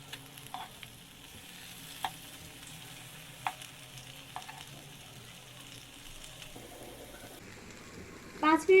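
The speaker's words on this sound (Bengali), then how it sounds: "চুলা মিডিয়াম ফ্লেমে রেখে আনারসের টুকরোগুলোকে এপাশ ওপাশ খুব ভালোভাবে রোস্ট করে নেব।" Pineapple pieces roasting over a medium flame in a pan give a faint, steady low sizzle with occasional light stirring clicks and scrapes, then a brief louder clatter at the end.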